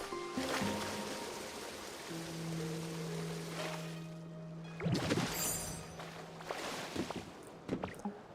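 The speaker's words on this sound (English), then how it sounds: "Perhaps even right here, where there's a surfable waterfall." Rushing waterfall water in the Pokopia video game: a steady, full wash of spray and flowing water throughout, with splashier swells and a few brief game tones layered on top.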